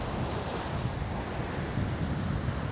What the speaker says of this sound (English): it's so nice to come to the beach and enjoy the waves